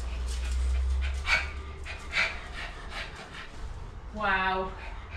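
Dogs pant and whimper near a window lintel repair site, with a short run of rising whines and yips toward the end. Breathy noise sits under low rumble.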